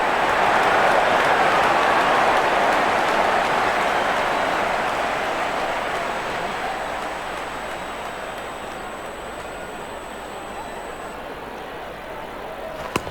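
Crowd applause after a six in an India versus New Zealand cricket video game makes a dense, even wash of clapping that slowly fades over about thirteen seconds, with a thin steady tone above it.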